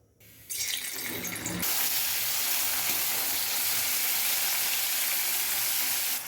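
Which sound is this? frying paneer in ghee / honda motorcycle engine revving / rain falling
frying paneer in ghee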